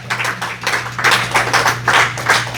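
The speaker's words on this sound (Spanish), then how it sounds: "Podemos darle un aplauso a nuestro Dios." A congregation claps during a bilingual Sunday church service. Clustered bursts of clapping rise and fall in a loose rhythm over a steady low hum, fairly loud and without speech.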